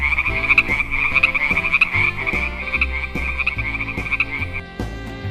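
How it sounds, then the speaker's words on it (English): A green frog croaks in a fast, rhythmic series of loud, close calls that continue steadily with no other sounds. "Wow, green frog, beautiful,"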